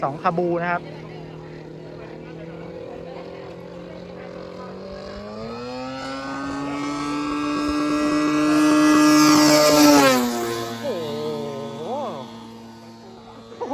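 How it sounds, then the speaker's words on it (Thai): A DLA116i2 inline twin two-stroke engine on a CY Model P-51D scale RC plane drones steadily, its pitch climbing as it revs up to a loud peak and then dropping back, heard close and mostly alone. "เครื่อง2สูบเรียง2จังหวะนะครับจะไม่เหมือนเครื่อง4จังหวะนะครับ"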